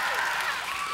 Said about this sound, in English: Stop clapping. Seriously,